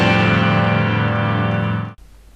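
A single loud, bright chord from guitars and piano, the opening to a song, sustains evenly for about two seconds and then stops sharply, leaving a faint trace of noise.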